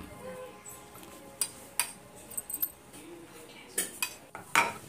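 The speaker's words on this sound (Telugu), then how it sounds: "అది శుభ్రంగా ఉండలు లేకుండా కలుపుకోవాలి" A spoon clinks and scrapes against a bowl while stirring a gram flour custard mixture, giving sharp, irregular taps over a quiet background.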